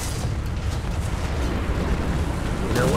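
Tank cannon fire in a tank combat video game involving a Nashorn tank destroyer: a loud, dense low boom and rumble fills the whole clip, with steady heavy battle noise and no clearly separate shots.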